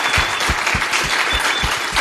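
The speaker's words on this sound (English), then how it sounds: "So I just thought everyone give Javeno a round of applause before we start" Loud, close applause from a live podcast audience gathered in a gym, dense and continuous, with heavy individual claps thumping near the microphone.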